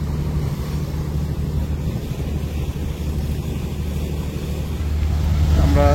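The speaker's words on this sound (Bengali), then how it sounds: "লঞ্চটি খুব একটা সরু চ্যানেল দিয়ে যাচ্ছে" A passenger launch moves through a narrow river channel, a steady low engine drone under broad wind and water rush, with a rising tonal hum swelling near the end.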